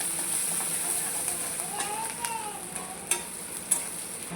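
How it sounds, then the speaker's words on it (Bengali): Onion and chili sizzle in hot oil in a pan, a steady soft frying hiss with a few light stirring clicks and scrapes near the end. "এই দেখুন এটা আমি 1 মিনিট ভালো করে ভেজে নেব।"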